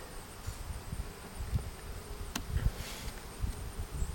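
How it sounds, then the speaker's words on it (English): A dense, steady buzz of many honeybees swarming close by at the entrance of a top-bar hive, a continuous hum with no voices. "You can see the shadows of all the bees buzzing around the entrance"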